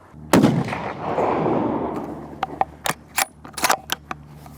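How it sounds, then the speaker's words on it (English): A single loud scoped rifle shot cracks close by with a booming rolling echo, followed by a series of sharp metallic clicks and clacks of the action being worked. "Now let's take this shot again, knowing that the scope is zeroed at 100 yards"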